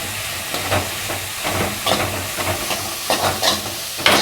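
Garlic and ginger sizzle steadily in a hot pan for an egg curry, with a spoon scraping and stirring through them in repeated strokes every second or so; close and fairly loud, no voices.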